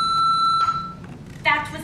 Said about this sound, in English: That was a very loud beep.